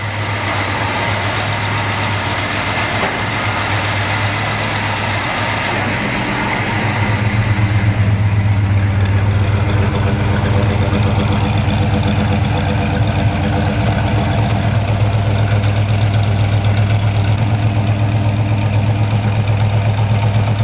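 A 1968 Chevrolet Chevelle's 355 small-block V8 idles steadily up close, a deep continuous rumble with a low throb that grows slightly fuller partway through.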